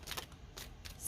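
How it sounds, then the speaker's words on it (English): Tarot cards are shuffled by hand, giving soft, quick papery riffles and slaps in a few short bursts, close but quiet, with no talking. "Just shuffling the cards."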